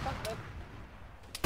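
30 mm autocannon fire in the video game Arma 3: two sharp, loud bursts, one early and one at the very end, separated by a quieter low rumbling gap.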